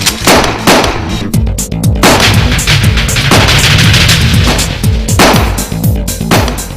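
Gunfire in a drama scene: loud, close bursts of rapid shots and heavy booms, one after another with only brief gaps, dense and continuous for several seconds.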